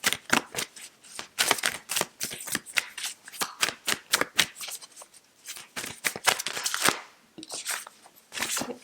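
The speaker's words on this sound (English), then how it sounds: "Let's get a Yogic path card for you, Saggy." Yogic path oracle cards are shuffled by hand, giving a close, rapid series of crisp riffling and slapping bursts that repeat throughout with brief pauses.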